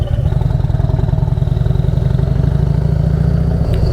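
A turbocharged Harley-Davidson Street Glide with a 131ci Stage 4 engine runs close by, a loud, deep, steady lumpy engine throb with a rhythmic pulsing beat and no voices.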